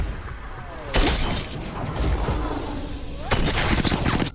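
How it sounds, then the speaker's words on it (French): Gunfire in a film scene as men open fire on a house, with sharp bursts of shots and crashing impacts at intervals, loud over a tense soundtrack. "Les autres ouvrent le feu et transforment la maison en zone de guerre."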